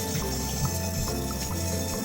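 A steady stream of tap water runs continuously, a close, even rush with no voices.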